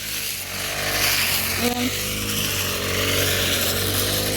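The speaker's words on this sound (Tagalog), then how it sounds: "Grass cutter pala, grass cutter." A grass cutter runs continuously with a loud, steady engine drone and broadband whir, close by, with a brief spoken word partway through.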